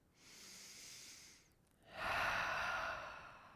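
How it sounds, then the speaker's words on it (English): Two slow, heavy breaths are pushed close into a microphone during a yoga session, a softer exhale followed after a brief pause by a longer, louder, airy one that fades out, with no talking. "A few heavy breathings into the microphone so that you remember to breathe."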